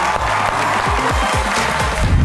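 Audience applause and clapping on a Hindi talk show stage as Saif Ali Khan comes on, a loud continuous wash of many hands with low booming thumps underneath.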